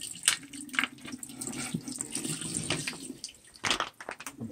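Tap water runs into a kitchen sink while potatoes are rinsed. The steady splashing is broken by louder clatters and splashes, and a voice is heard briefly.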